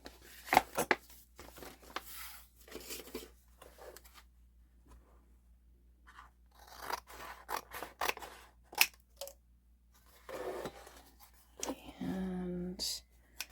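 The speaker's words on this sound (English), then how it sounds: "I just have to trim these edges a little bit because they're sticking out" Scissors trimming the sticking-out edges of a journal cover made from banana packaging, a series of close, crisp snips with pauses between, while a person talks quietly throughout.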